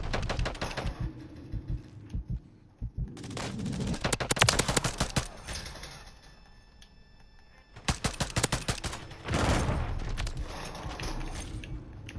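Rapid video game gunfire from Modern Warfare III rattles in dense bursts, loud and close, with quieter mechanical clicks between volleys.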